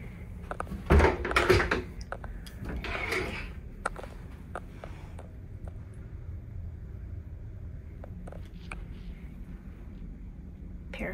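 Cabin drawers aboard the Queen Mary 2 slide and bump shut, with a cluster of close wooden thuds early on, then a few softer clicks and taps over quiet room tone.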